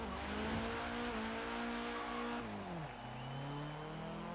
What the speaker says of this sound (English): it actually sounds really good as well, which is not something I normally say of turbocharged inline-4 engines